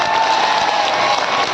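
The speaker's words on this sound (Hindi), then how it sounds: "अपने दोनों हाथ ऊपर करके जोरदार तालियां" Dense, sustained clapping from a large audience at a dance event, steady and loud with a faint murmur of the crowd mixed in, no voices standing out.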